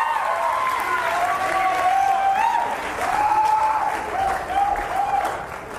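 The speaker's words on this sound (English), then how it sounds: "Give her a round of applause" Audience at a motivational speech breaks into applause, a sustained swell of clapping and crowd noise over several seconds, with a voice or tonal sound running through it.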